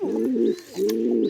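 Pigeons coo in two low, rounded phrases, close by and fairly loud, with a short gap between them and no voices over the calls.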